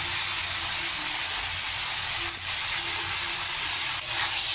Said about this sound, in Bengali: লঙ্কা মেশানো হয়ে গেলে একটু ভালো করে ভাজবো